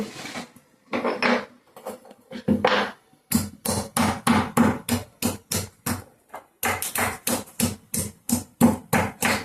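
Rhythmic pounding of garlic in a mortar for sambar tempering, a quick run of sharp thuds at first, then a long steady series of loud, evenly spaced strikes with a brief pause midway.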